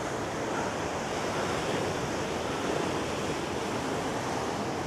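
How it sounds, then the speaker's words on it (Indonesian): Ocean waves break and wash up a beach in a steady, loud, continuous roar of surf with some wind noise, heard alone with no voices. "Gue ngeri ombaknya naik ke sini"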